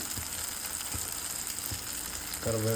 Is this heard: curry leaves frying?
yes